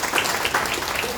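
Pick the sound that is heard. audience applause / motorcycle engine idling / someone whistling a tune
audience applause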